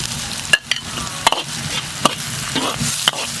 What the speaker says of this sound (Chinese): 切好的麦筋上锅炒，锅里倒点油，油后下入葱姜蒜、干辣椒、花椒。